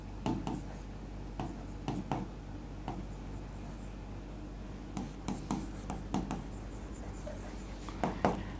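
Chalk or marker writes on a board in short scratchy strokes and taps, sparse and fairly faint, arriving in small clusters with quiet pauses between them.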